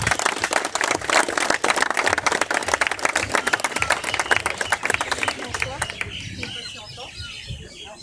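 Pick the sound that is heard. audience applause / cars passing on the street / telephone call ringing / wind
audience applause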